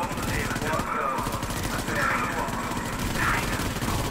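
Heavy gun fire in Call of Duty WW2 online zombies, a dense rattle of rapid shots running continuously under a loud game mix.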